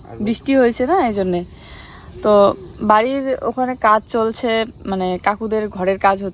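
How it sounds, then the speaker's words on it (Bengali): Crickets drone in a steady, high-pitched chorus beside a maize field after rain and a hailstorm, continuing unbroken beneath a person talking close by. "দেখছো আজকে আরো বেশি করে ঝিঝি পোকা ডাকতেছে না"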